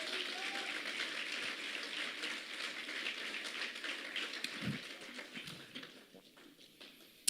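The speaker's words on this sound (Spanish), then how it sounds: "Denle un aplauso al Señor" Church congregation applause during a sermon, dense crackling clapping at a fairly low level that gradually thins and fades toward the end.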